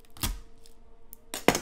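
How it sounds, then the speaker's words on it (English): A garlic clove is squashed under the flat of a kitchen knife blade, giving a sharp thump, a faint tap, then a louder pressing crack up close. "and then I squash it under the blade of the knife"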